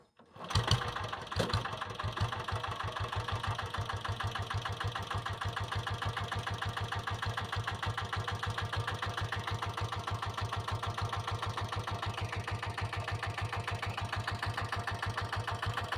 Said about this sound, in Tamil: வாங்க இப்போ வண்டி ஸ்டார்ட் பண்ணி பார்க்கலாம் வாங்க.